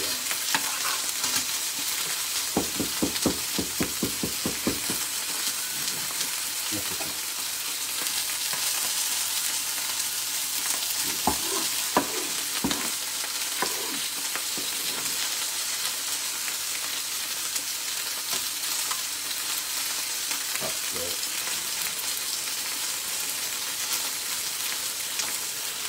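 Onions fry in a pan as another ingredient is stirred in for chicken curry, with a continuous loud sizzle and scattered clicks of a utensil scraping and stirring, and no talk.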